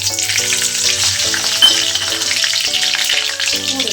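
Cumin seeds sizzle and crackle in hot oil for a Gujarati moong dal, a loud, steady close frying hiss throughout, with faint music-like tones running underneath.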